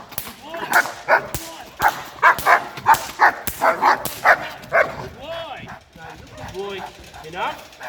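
A dog being trained to be very aggressive barks sharply about ten times in a fast, even rhythm, loud and close, then falls quiet as people talk and a few softer yips follow.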